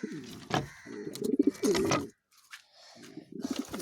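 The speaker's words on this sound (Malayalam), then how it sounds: "സെറ്റ് പ്രാവാണ് കേട്ടോ" Pigeons coo nearby in low, throaty, rolling calls, repeating in bursts with a short quiet gap in the middle, from birds kept in a pigeon loft.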